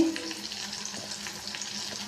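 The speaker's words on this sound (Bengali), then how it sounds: "এই একটু পটল ভাজা করে নিচ্ছি" Pointed gourd (potol) pieces frying in a pan, an even, close hiss of hot oil with faint stirring taps throughout, no voices.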